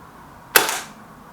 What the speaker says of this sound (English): That's a better shot from the Nish